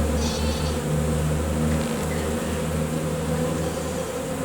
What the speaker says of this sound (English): the queen's in there, and the other bees will follow the queen into the box